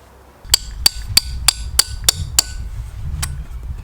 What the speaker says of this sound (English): the aim of the game is to try and hydraulic this spigot bearing out.